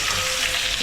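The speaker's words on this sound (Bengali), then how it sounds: "এদিকে হচ্ছে মাছের তেলটা ভাজা হচ্ছে আলু দিয়ে" Fish oil frying with potatoes in a pan gives a loud, steady sizzle, close up and continuous, with no voices.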